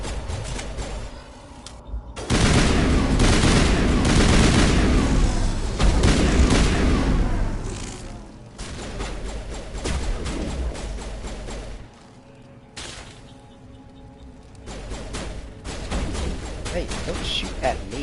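Sniper rifle fire and heavy blasts in the video game Mass Effect, with loud booming shots and explosive bursts followed by quieter stretches, mixed with ongoing game sound and talk.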